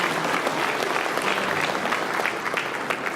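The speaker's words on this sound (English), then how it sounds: "So let's give him a round of applause." A crowd at an event announcing a minor league baseball team's name gives a round of applause, with dense, steady clapping throughout.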